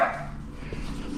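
A dog barks in a yard during a tense police encounter, a short bark at the start with further yips following under a low background hum.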